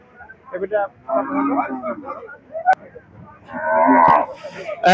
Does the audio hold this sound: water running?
no